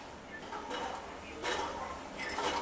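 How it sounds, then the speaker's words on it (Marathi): Sugar syrup for gulab jamun is stirred in a pot, making a few soft, faint scraping strokes roughly every second over a quiet background. "एकदा मी साखर हलवून घेणार आहे।"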